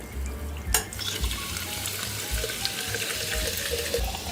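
Soda water from two bottles pours into a large 1.7-litre Cille insulated tumbler, a close fizzing, bubbling hiss with a sharp clink near the start, no talking.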